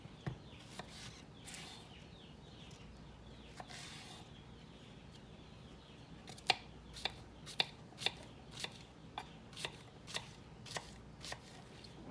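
A kitchen knife chops summer squash on a cutting board for Southern cooking, first in a few scattered cuts and then in a steady run of crisp, close knocks, with no talking.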